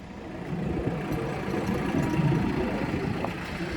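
A tractor engine runs steadily throughout, a rough mid-range drone that holds at moderate loudness, no voices over it.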